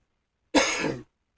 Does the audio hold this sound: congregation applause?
no